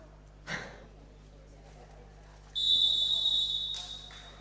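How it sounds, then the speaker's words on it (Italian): A referee's whistle sounds at an under-12 boys' volleyball cup final, one sustained shrill blast of about a second after a short breath-like noise in an otherwise quiet hall. "L'arbitro fischia, tutto è pronto per rientrare."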